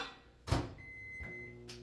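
A microwave oven being started to heat an apple: a door thump and a short electronic beep, followed by a steady low hum.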